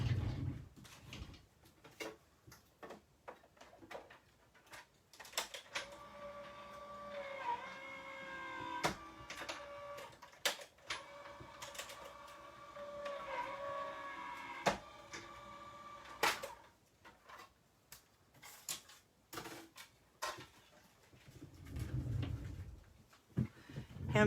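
A die cutting machine feeds card stock through with a steady mechanical whir and grinding tone in the middle of the clip, fairly quiet, framed by clicks and handling noises.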